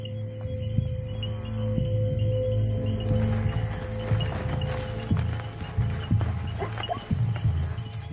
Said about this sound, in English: The sound of the herd draws one of the lionesses closer.